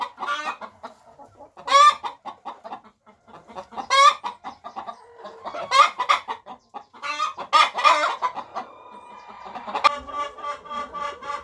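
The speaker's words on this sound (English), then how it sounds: "Of course, hens can be very loud while laying eggs." Free-range farm hens cluck loudly while laying eggs, in irregular bursts of sharp, squawking calls separated by short quieter gaps, close by.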